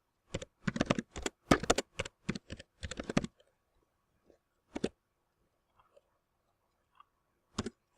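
Code typed on a computer keyboard, a quick close run of clattering keystrokes for about three seconds, then a few isolated taps among quiet pauses.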